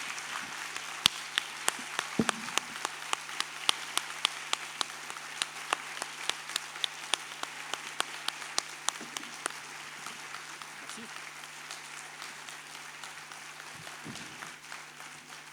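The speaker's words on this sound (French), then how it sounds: "tu reconnais quand les applaudissements sont chaleureux, sont naturels" Warm applause fills a conference hall after an opening lecture at a science communication congress, with crisp nearby claps over a dense crowd that gradually thins and softens toward the end.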